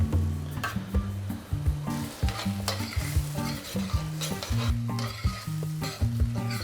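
Onion with red pepper and grated tomato sautés in a pan with a bright, constant sizzle, punctuated by rhythmic scraping and knocking of a spoon stirring close up.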